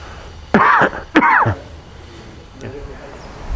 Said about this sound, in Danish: Skal du nyse eller hoste, så skal du gøre det i ærmet.